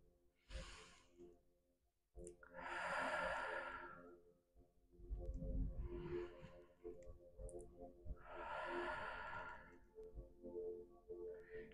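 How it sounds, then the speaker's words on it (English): Slow, deep breathing at the close of a vinyasa yoga practice: soft, close inhales and exhales alternating in an unhurried, even rhythm, with quiet pauses between and no talking. "close off this practice with a few deep breaths. And just focus on the inhales and exhales"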